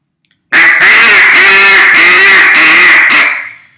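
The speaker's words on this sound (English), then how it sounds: "That's the basic quacks of a duck call." A duck call blows a series of five loud, raspy boss hen quacks in quick succession, close and alone.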